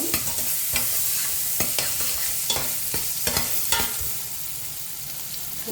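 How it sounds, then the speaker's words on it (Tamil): Lentils with green chilies are stirred in a hot pan. A continuous sizzle sits under a string of scraping stirring strokes, with no voices. "நல்லா கலந்து விடுவோம்."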